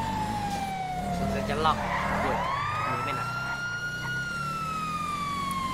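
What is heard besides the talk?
police siren in video game GTA V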